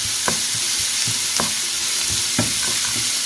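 Small shallots sizzle in hot oil with frying onions for a Kerala fish masala, a steady hiss broken by several distinct spoon-on-pan scrapes and knocks as they are stirred.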